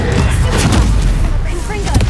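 A Confringo fire blast spell goes off in Hogwarts Legacy, a loud, booming burst with a rumbling low end that fills the short moment, while a voice calls out over it.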